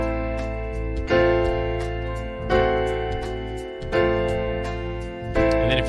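A piano plays a theme melody over a backing track, with sustained chords and steady low bass lines and a strong accent returning every few seconds, at an even, moderate level with no talking.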